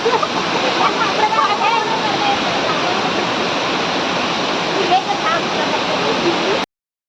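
A loud, constant roar of rushing water from the nearby Ranpat waterfall in Konkan, India, with faint voices mixed into the steady noise before it cuts off.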